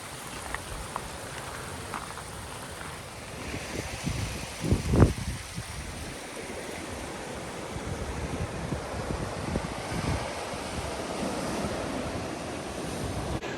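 Ocean surf washes steadily onto a beach on the Cornish coast, a continuous broad roar with one louder close wave breaking around the middle, no voices present.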